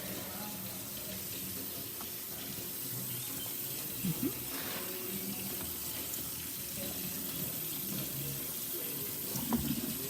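Steady hissing stream of hot water running continuously from a DeLonghi combination espresso machine, with a couple of faint clinks partway through; no talking.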